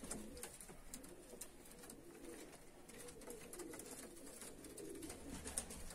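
Barefoot fighting pigeons in a loft coo softly among faint bird calls and a steady background hiss, with the cooing low and indistinct and no clear voices.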